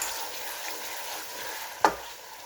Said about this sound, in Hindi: तो ये खड़े मसाले डाल के हम इसको थोड़ा-सा फ्राई करेंगे।